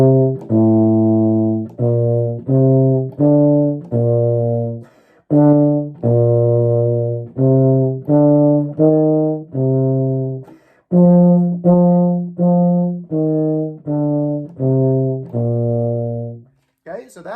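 Short beginner band piece for a 4th grade lesson played on a low brass instrument, a run of sustained notes with some tied and held longer, separated by brief breaths, loud and close with no talking.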